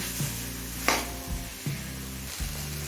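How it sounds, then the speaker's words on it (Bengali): Ground spice paste for chicken khichuri sizzles gently in a pan while a spoon stirs and scrapes a few times, close and fairly quiet, with no talk. "বাটা মশলা দিয়ে সব কিছুর সাথে মিশিয়ে নিয়েছি এবারে সব কিছু খুব ভালোভাবে কষিয়ে নেবো"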